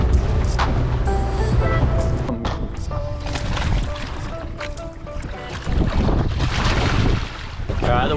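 A boat engine runs steadily while wind buffets the microphone, with loud gusty rumble throughout and brief dips in the roar.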